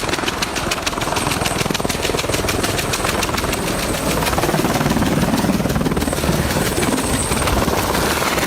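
Firefighting helicopter with a water bucket on cables, flying close by: a loud, steady rotor chop and turbine roar with dense rapid pulsing that holds constant throughout.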